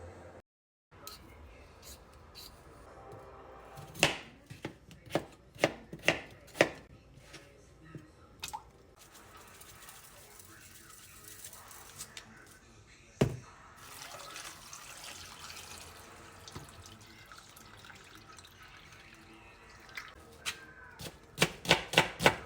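Food being diced with a knife on a board while making stuffed chicken roll-ups, sharp chopping taps coming in irregular bursts alongside running water and kitchen clatter, with a person talking now and then.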